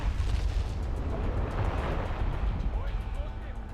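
Continuous heavy rumbling with booming blasts from the video game Far Cry 4 fills the space, loud and close, with faint voices mixed underneath.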